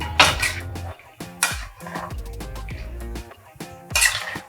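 Chicken curry stirred in a metal cooking pot, with repeated clanking and scraping of a spoon against the pot in an irregular rhythm, loud and close.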